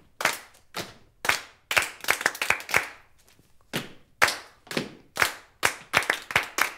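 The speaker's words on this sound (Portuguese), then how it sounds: "Hoje nós vamos bater palmas" A group claps hands together in a steady shared rhythm, a children's musical game of passing a beat from one to another, with crisp bursts grouped into repeating patterns and short gaps between.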